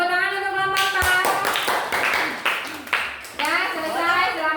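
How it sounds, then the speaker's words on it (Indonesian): Clapping mixed with children's voices, rising and falling over a few seconds, fairly close and lively. "Tepuk tangan untuk kelompok 4."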